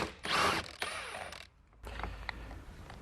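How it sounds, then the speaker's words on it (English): A socket wrench loosens the 21mm center nut on a steering wheel during a quick release install, giving close, loud bursts of rapid ratcheting clicks with a short pause in the middle. "Now we're going to take a 21mm socket and remove the center nut."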